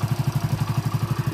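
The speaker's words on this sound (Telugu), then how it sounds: "మనకు ఇంజన్ సౌండ్ అయితే వినండి మళ్ళా." A Hero Splendor Pro or Passion Pro motorcycle engine idles close by, putting out a steady low thumping pulse at an even rapid rhythm, with no talk over it.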